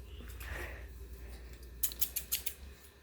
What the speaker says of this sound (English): Okay, got the scissors.